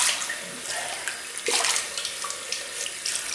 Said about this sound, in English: so we'll fill the sink